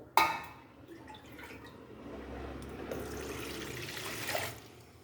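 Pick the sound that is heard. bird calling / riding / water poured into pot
water poured into pot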